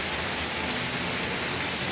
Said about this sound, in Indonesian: pada hari ini hujan begitu deras di Desa Cikukulu.